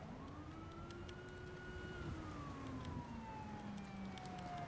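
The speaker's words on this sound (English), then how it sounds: "I figured my siren is still on." A police car siren in a video game wails in slow rising and falling sweeps, loud and continuous over a rumbling vehicle engine, with no talking.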